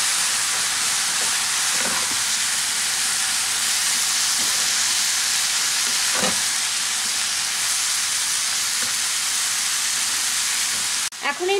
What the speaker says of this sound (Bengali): ভালো করে মিশিয়ে নেব লাউয়ের সাথে।